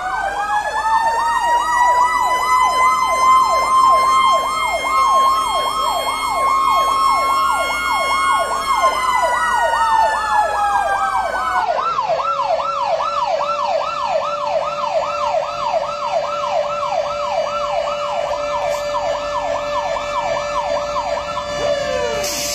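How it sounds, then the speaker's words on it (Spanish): Fire engine sirens wail continuously at a funeral procession for a young boy scout and volunteer firefighter. Loud, close rising-and-falling tones switch partway through to a faster repeating wail and overlap for over twenty seconds. "Familiares y amigos lo despidieron entre desgarradores llantos y el canto de las sirenas."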